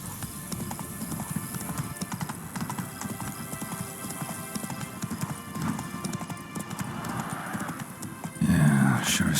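Hooves of the horse in The Witcher 3 clip-clop steadily at a walk with a whinny among them, while game dialogue plays over the top and a louder burst comes at the end.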